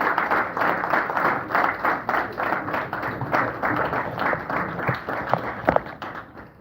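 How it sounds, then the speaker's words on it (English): Audience clapping at a business luncheon, a sustained round of applause with dense, irregular hand claps holding steady for several seconds, fairly close and full. "Please, a round of applause to more,"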